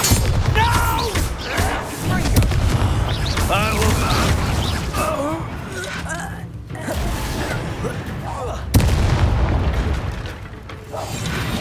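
A deep Bombarda spell explosion booms out in the video game Hogwarts Legacy amid continuous spoken dialogue and game ambience, with a sharp burst landing late in the clip.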